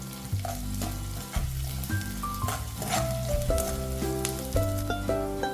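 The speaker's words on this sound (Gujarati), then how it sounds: "ડુંગળીને આપણે ગોલ્ડન બ્રાઉન કલરની થાય ત્યાં સુધી સાતળવાની છે" Onions frying until golden brown for a soya chunks biryani, a dense close sizzle with crackling pops and occasional spoon scrapes and knocks against the pan, with no one speaking.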